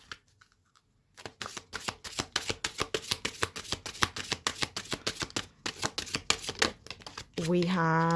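Stack of tarot cards riffled and shuffled in a long run of quick, crisp flutters, loud and close, after a short silence, ending with a brief tonal hum or chime.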